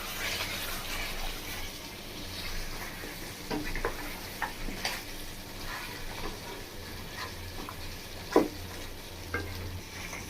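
Mutton being sautéed with spices in oil for a dehati mutton curry, a soft continuous sizzle with occasional scraping stirs and clinks of the spoon against the pan, fairly quiet and close.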